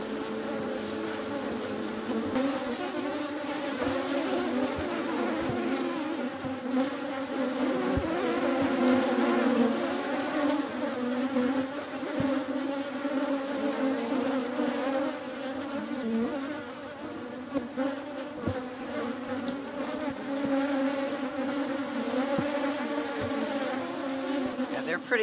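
Agitated honeybees swarm around an opened horizontal hive split, giving a dense, continuous buzzing drone close by that swells and fades slightly, with a few soft knocks underneath.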